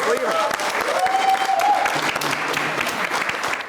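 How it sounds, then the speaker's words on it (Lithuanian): Audience applause fills the whole stretch, steady and fairly loud clapping from a crowd without letting up, with a brief cheer or whistle near the start. "plojimai"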